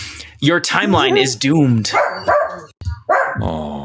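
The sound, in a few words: dog barking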